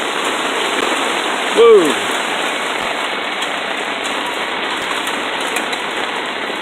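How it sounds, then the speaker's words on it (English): Heavy rain pours steadily onto a tarp at an outdoor metal forge, a dense constant hiss filling the whole stretch, with a brief voiced exclamation cutting through near the start. "I don't know if you can hear that rain, but it is coming down."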